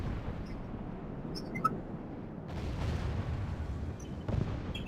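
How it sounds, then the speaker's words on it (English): Distant, rumbling cannon fire in a Medieval Total War 2 battle, with dull booms swelling over a constant low roar and a few faint clinks. "we're still shooting away at each other with cannons"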